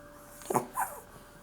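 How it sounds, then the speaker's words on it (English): A female Chihuahua on kennel rest for an injured paw lets out two short, unhappy whimpering whines close by, the second rising slightly, with no one talking. "This is one pissed off dog."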